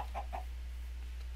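A Minecraft chicken gives two quick, soft clucks in a video game, followed by a quiet pause over a low steady hum.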